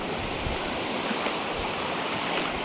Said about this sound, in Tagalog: Medyo malalaki yung alon ngayon